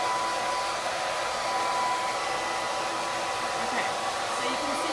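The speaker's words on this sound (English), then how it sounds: "So I like a hair dryer on a low setting" A hair dryer set to low speed and low heat blows on a chalk transfer, giving a steady, even whoosh with a faint whine. It runs alone at moderate loudness with no pauses.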